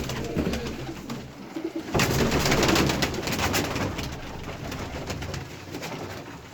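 Pigeons coo in a crowded coop of game birds, including a spotted crested female, with steady overlapping cooing and rustling throughout, growing louder and busier after the first two seconds.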